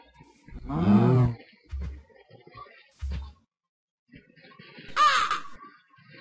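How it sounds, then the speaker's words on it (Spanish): A crow in a Minecraft game caws a few times, with one long harsh call, two short lower croaks and a later sharp cry, loud and near against silence. "Hay un cuervo"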